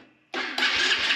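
A Chinese Xpro pit dirt bike engine catches and fires up with the choke on, going from near silence to a loud, steady buzzing idle that steps up in pitch and holds close by.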